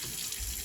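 Water runs steadily from a kitchen faucet sprayer into the sink, a continuous close hiss with no speech over it.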